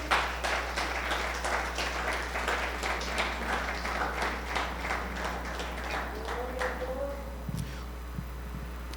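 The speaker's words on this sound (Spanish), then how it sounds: "Dale un fuerte aplauso al Señor" A church congregation claps together in a steady, rhythmic burst of applause over a low electrical hum. The clapping fades out after several seconds, leaving the hum and a little soft talk.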